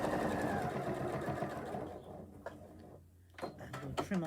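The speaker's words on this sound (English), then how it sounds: "So we can stitch down there." A domestic sewing machine stitching quilting patchwork runs in a fast steady whir of needle clatter, then slows and stops with a few clicks and handling knocks as a person speaks nearby.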